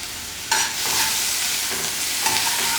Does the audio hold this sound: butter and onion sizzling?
yes